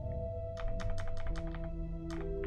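Computer keyboard keys pressed during gameplay, about nine crisp clicks in a quick uneven run, then a pause and a final pair, close and clear over a low steady hum.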